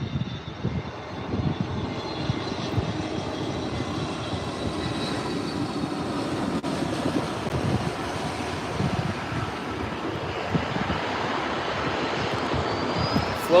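An American Airlines A321neo airliner landing on runway 24R at LAX, its engine roar steady and fairly loud across the whole stretch, with broadband wind noise mixed in.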